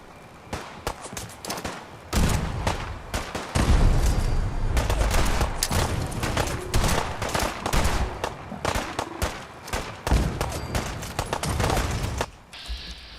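Battle gunfire in Fallout 4's Far Harbor, dense bursts of automatic and single shots crackling loudly for most of the stretch, with brief quieter gaps at the start and end.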